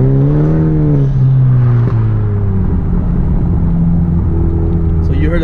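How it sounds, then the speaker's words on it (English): A modified 2018 Hyundai Elantra Sport in race mode pulls at half throttle, its engine rising and falling in loud, close revving sweeps with turbo whoosh and exhaust rumble, ending in a sharp hiss. "So you heard the turbo go crazy,"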